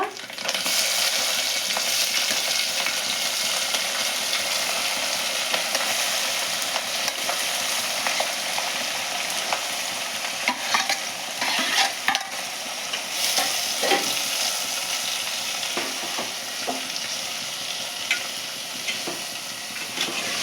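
Thinly sliced onions and tomatoes sizzle steadily in a hot pan for an egg curry, with close scraping and stirring strokes breaking through the constant frying hiss, no voices.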